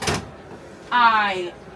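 A drawer in an Airstream trailer slides open with a brief whirring, slightly squeaky glide lasting about half a second, close by, after a short burst of voice at the start.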